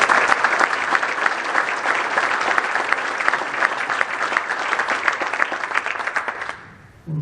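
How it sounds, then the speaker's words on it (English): A room full of people at an annual association meeting gives sustained, dense applause that stays steady for several seconds before tapering off at the end. "I want everybody to give them a big round of applause."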